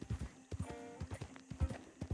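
Horse hooves clip-clop in a steady run of quick thuds in Red Dead Redemption 2, with a brief tonal whinny rising midway, close and moderately loud.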